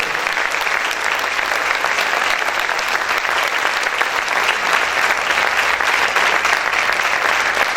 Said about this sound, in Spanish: Sus aplausos para el Señor, déselo fuerte